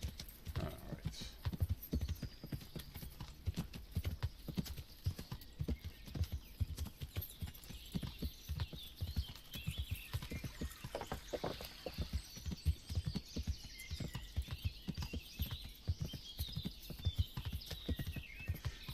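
Horse hooves clip-clopping at a walk along a woodland road in the video game Kingdom Come: Deliverance, a steady rhythmic patter of close, crisp hoofbeats continuing throughout with faint ambient game sound behind.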